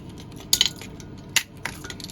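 Dried eggshells are lifted from a food dehydrator tray, giving a few bright, brittle clinks and light rattles, two sharper ones and a softer third, against a quiet room hum.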